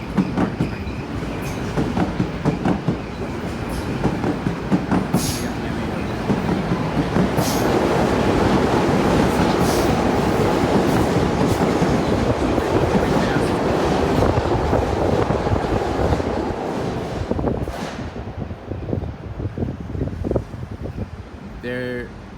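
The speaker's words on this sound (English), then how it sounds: "There goes the M7 to Croton Harmon" A Metro-North M7 commuter train passes at the Park Avenue tunnel portal, a loud, close, sustained roar of wheels and clattering rail joints that swells and fades over about twenty seconds.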